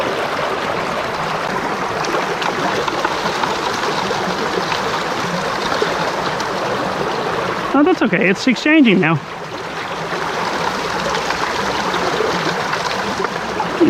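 Water rushes steadily through a sluice box set up for gold prospecting in a Wicklow stream, a continuous bright gushing flow close by, with someone speaking briefly partway through.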